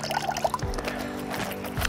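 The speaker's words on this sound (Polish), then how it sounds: "dlatego już w tej fazie początkowej mogę troszeczkę wodę odsączyć" Excess water being poured off fishing groundbait for method feeder, a close, steady trickling pour with small splashes and a few light clinks, heard alone without talk.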